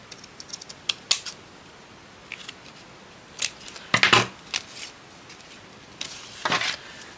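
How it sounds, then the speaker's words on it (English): Paper being trimmed with paper scissors for a scrap-paper journal: a series of short, crisp snips and rustles, some close and sharp, others lighter, spread irregularly with brief pauses between cuts and no talking. "I'm going to trim this."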